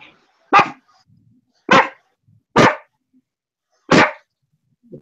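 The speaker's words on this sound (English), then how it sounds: "The dog!" A dog barks four times, sharp and close, with pauses of about a second between barks and near silence around them.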